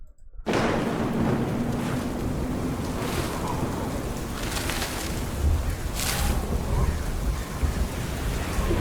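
Thunderstorm from an album trailer: loud continuous rain with rolling thunder and several sharp cracks, starting abruptly after a brief silence and filling the whole stretch.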